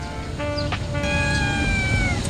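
A day-old kitten meows in long, high, drawn-out cries, close and clear over a steady background hum, with no talking.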